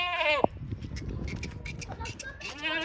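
A dairy goat gives a loud, wavering bleat at the start and another toward the end, with someone talking nearby and faint rustling between the calls.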